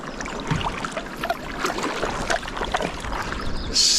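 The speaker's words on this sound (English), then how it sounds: "Just the sound of rushing water" Rushing water on the Frost River in the Boundary Waters wilderness, a steady broad wash with soft splashes, moderately loud and continuous with no voices.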